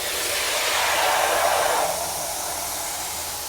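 A plasma cutter slices teardrop tabs for coilover towers on a first-generation 4Runner build, making a continuous loud hiss that eases slightly partway through and carries on steadily.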